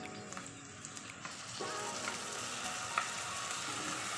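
Crushed garlic and ginger hit a pan of softened onions for a vegetable pulao, the sizzle swelling into a steady, bright frying hiss after a quieter start.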